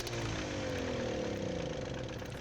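Old tractor engine in the Farming Simulator video game, a steady mid-pitched running rumble with a slight rising whine, continuous and moderately loud, no voices.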